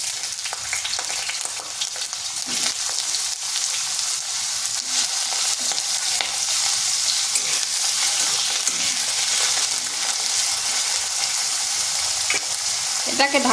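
Sliced potatoes fry in oil in a wok, a dense, continuous close sizzle with irregular scraping and clattering as a spatula stirs them throughout, no speech.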